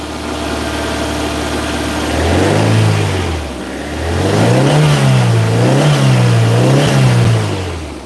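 A 40-year-old Toyota MR2 engine idles roughly, then gets a couple of quick blips that swell and fall, followed by a string of rhythmic revs rising and dropping, close and loud with no talk.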